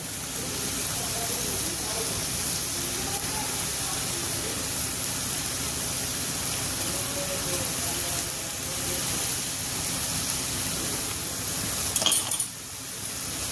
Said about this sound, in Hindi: गैस को थोड़ा तेज कर देंगे और इस सब्जी को चला देंगे